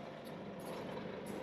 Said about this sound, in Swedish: En lastbil.